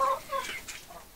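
Chickens cluck softly in a coop housed inside a greenhouse, a few short, close calls running together over a faint background hum.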